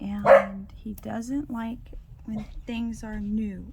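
Repeated sharp barks from a nearby dog, several in quick succession, mixed in with a person talking.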